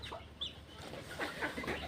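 Native Bangladeshi country chickens cluck and chatter close by in short, irregular bursts over a soft, continuous outdoor background, with no talking.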